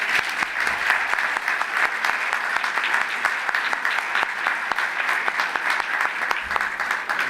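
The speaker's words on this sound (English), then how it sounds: "Give him a round of applause." An audience at an awards gala applauds an honoree, with loud, dense and sustained clapping that fills the room at an even level throughout.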